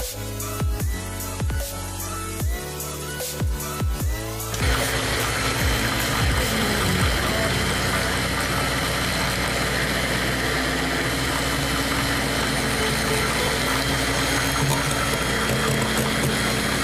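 Juicer-blender whirring through a banana milkshake, a loud continuous motor roar with liquid churning that sets in after a few short bursts and then holds steady to the end.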